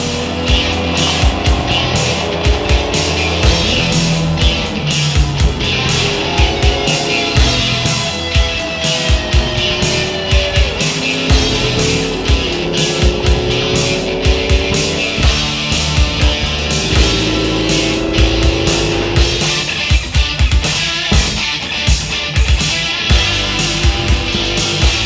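A rally car driven hard at full throttle for a charity event, its engine roaring loud and close with rising and falling revs through gear changes and brief tire squeals, continuous with no talk.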